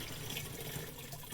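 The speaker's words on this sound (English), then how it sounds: "First we'll pour in the iron." Liquid iron lawn treatment is poured from a container in a faint, steady trickling stream that runs evenly without interruption.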